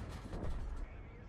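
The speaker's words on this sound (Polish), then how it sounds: "Jeszcze jeden strzał i niestety tutaj nietrafiony." A single tank gun shot in World of Tanks, fired from a T25 Pilot and missing its target, a brief muffled boom that swells and fades within about a second, quite faint overall.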